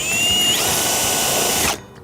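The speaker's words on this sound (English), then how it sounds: "Let's drill a hole in the side of the house and get this thing installed." A power drill bores a hole through the exterior wall of a house to fit a Prier hot/cold outdoor faucet for PEX A plumbing, whining loudly and steadily up close before cutting off abruptly near the end.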